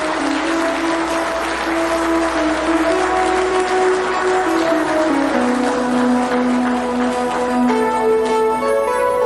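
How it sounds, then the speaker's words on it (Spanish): Audience applause welcoming a lecturer to a spiritual conference, steady dense clapping throughout with sustained music tones running beneath it. "a quien lo recibimos con un cariñoso aplauso"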